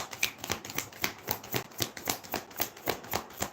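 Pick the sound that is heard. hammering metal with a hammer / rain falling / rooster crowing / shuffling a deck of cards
shuffling a deck of cards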